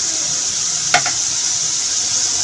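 Onions sizzling in a pan with turmeric and spices give a steady, bright hiss, broken once by a short clatter of stirring, with no voices.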